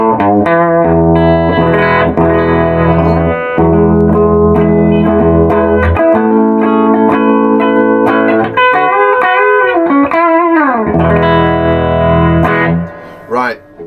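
Electric guitar played through a 1968 Marshall Plexi valve amp with digital reverb, loud sustained chords and single-note bends ringing out with a reverb tail, alone with no talking.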